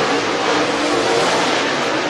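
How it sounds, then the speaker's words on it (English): Open-wheel modified race cars roar as they accelerate at Duck River Raceway Park, a loud, sustained mechanical drone close by with no break and no voices. "Cars coming up to speed."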